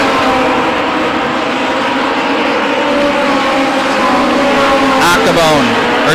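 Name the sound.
late model race cars racing at Lake Erie Speedway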